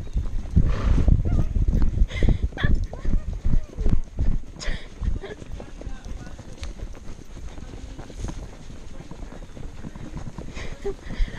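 Horse hooves clip-clop steadily beneath a rider on a trail ride, the footfalls close and fairly loud amid gusty wind noise on the microphone, with someone talking over them at times.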